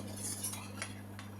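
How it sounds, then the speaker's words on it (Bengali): Brief metallic scraping and light clinks of a spoon working cream sauce through a sieve in a home kitchen, quiet over a constant low electrical hum. "এখন আমি এই সসটাকে পাশ করে নিব, অর্থাৎ ছেঁকে নিব।"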